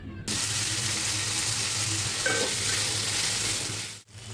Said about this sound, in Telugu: కొంచెం ఆయిల్, ఉల్లిపాయలని, టమాటాలని, చెక్క, లవంగం, ఎండుమిర్చిని కలిపి బాగా ఫ్రై చేసుకోవాలి.